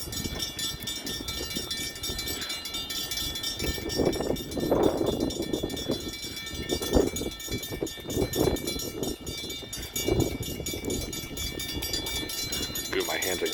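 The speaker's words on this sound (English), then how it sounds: "Our first catch is going to be this Grand Elk train with two SD40-2 liters." A Grand Elk freight train led by two EMD SD40-2 locomotives rolls slowly through a town on the CN South Bend subdivision, with loud rumbling, wheel clatter and ringing bells, while people talk excitedly nearby.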